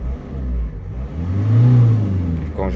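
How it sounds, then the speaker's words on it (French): A Renault Clio 2 dCi diesel engine revs up, its deep drone climbing and swelling loud, then easing back toward a faltering idle near the end, with no talk over it. "Quand j'accélère, ça part très bien. Je ressens bien que ça y a une accélération normale, mais c'est juste le ralenti qui est pas bon."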